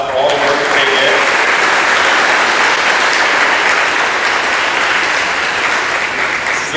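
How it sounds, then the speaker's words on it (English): An audience at a high school Veterans Day ceremony claps in a sustained round of applause, loud and dense from the start and then tapering slightly toward the end. "Can we give them a round of applause for all the work that they did?"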